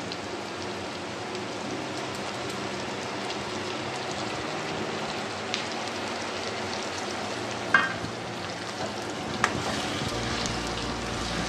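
Ground spice paste sizzling in hot oil for a mutton liver curry, a dense continuous crackle like steady rain that stays even throughout, with a couple of faint utensil clicks and no talk.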